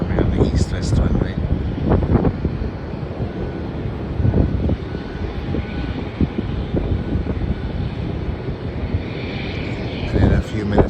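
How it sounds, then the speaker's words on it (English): A Boeing 737 airliner on the Sydney to Melbourne route lands on an east-west runway, heard as a steady, rumbling jet roar with wind buffeting the microphone while a person talks over it. "Flight coming in from the east-west runway is going to be a Sydney to Melbourne flight"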